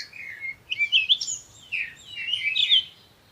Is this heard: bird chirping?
yes